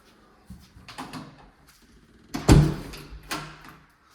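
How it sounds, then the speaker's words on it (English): A door swings shut with a firm thud, preceded by a few lighter knocks and rattles of handling nearby, then a softer bump trailing off. "Door's looking good, that is shutting."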